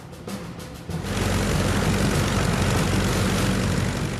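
Engine of a P-51 Mustang prototype propeller fighter fitted with an 1100-horsepower Allison engine, roaring up loudly after a short quieter start and holding a steady, close drone.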